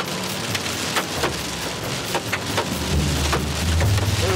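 Heavy rain pours down during a storm, a dense continuous roar, with a few sharper impacts that may be hail and a deeper rumble building toward the end.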